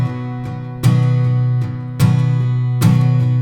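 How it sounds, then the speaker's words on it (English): An acoustic guitar strums an accented pop rhythm from a song, loud and close, with a strong accented strum roughly every second between lighter, ringing strokes, played alone with no talking. "So now I'm getting a little more into advanced strumming."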